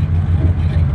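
A 1959 GMC pickup engine idles close by with a loud, steady low throb and a slightly lumpy pulse that holds even for the whole moment, with no other sounds on top.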